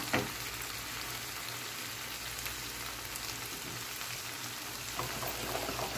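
Filipino food sautés in a pan with a steady, even sizzle and crackle, faint and continuous with no talking.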